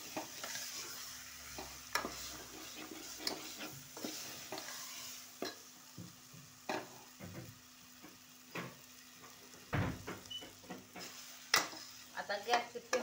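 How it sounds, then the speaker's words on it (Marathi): A spoon stirring chicken rassa masala in a pan, with soft scraping strokes and light clinks at irregular intervals over a quiet, faintly sizzling background. "आता छान मिक्स करून घ्यायचं।"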